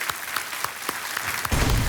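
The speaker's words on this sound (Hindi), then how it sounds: "तालियों के साथ उनका परिचय होगा।" A studio audience on the Indian quiz show Kaun Banega Crorepati claps steadily to welcome Fastest Finger First contestants. The applause is close and even, then a louder low rumble swells beneath it near the end.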